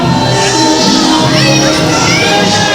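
Wrestling crowd at a PCW Limelight show reacting to a heel wrestler in the ring, a loud sustained roar of shouting and jeering voices filling the arena without pause.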